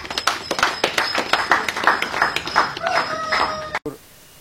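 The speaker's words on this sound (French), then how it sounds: "nous acclamons" An audience claps in a sharp, rhythmic burst of applause with whoops and calls at a French-language gathering, loud and close, cutting off abruptly near the end.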